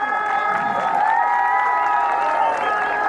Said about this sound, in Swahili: Penye pako wa journaliste mjipigie makofi